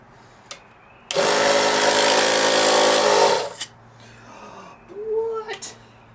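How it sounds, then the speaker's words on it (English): A small air compressor blasts air through a part of a Bolens push mower in one loud, steady two-second hiss, then cuts off; clicks and a brief voice follow. "I have my little tiny air compressor so I can try and blow some air through there."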